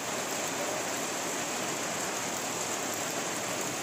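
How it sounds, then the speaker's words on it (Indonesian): Steady heavy rain falling on a coastal fishpond area in Tarakan, a dense continuous hiss that stays even and loud throughout with no voices. "Oh. Hujan."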